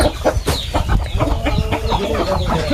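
Native desi chickens on a village farm cluck steadily and close by, several birds overlapping in a busy, continuous stream of short calls with no speech.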